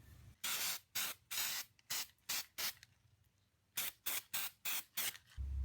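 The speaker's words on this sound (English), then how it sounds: "Krylon Rust Tough Primer" A Krylon Rust Tough Primer spray can coats car parts in a series of short, loud, close bursts, about a dozen quick hissing sprays separated by brief gaps.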